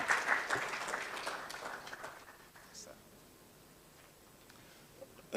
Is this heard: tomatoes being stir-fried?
no